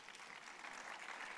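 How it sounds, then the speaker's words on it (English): Audience applause for panelists at a youth consultation session on gender-related conflict, a dense steady wash of clapping that stays even and sustained throughout without a break. "A big round of applause for our panelists here,"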